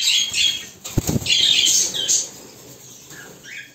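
A cockatiel in a parrot breeding room bursts into flight, its wings flapping in a quick flurry near the start, amid chirps and squawks from other birds.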